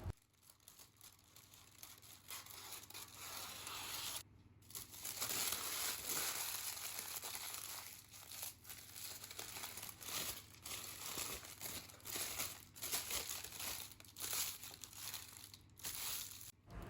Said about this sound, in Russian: иду застеливать противень пергаментной бумагой